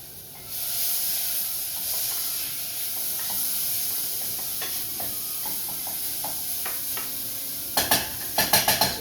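Two teaspoons of chopped garlic sizzle in a hot pan while cooking for eggplant Parmigiano, a loud continuous hiss with scattered pops and a few scraping stirs near the end.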